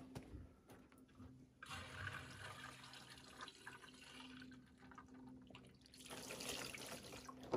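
Water pours from a pump into a tank at an off-grid Alaska site, a steady rushing, splashing flow that swells louder toward the end, fairly faint and without talk.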